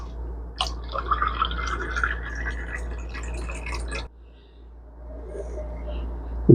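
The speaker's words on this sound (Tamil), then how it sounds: "இதே அளவில் 5 கப்பு தண்ணி ஊற்றிக்கணும்" Water pours into a pot while moong dal aval payasam is made, a steady splashing fill that runs for about four seconds, then cuts off and leaves quiet room tone with a low hum throughout.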